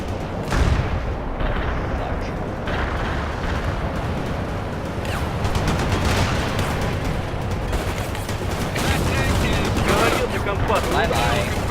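Gunfire and a TOW missile launch in the World in Conflict video game, a loud, dense barrage of shots and heavy booming blasts rolling continuously, with a voice speaking over the combat.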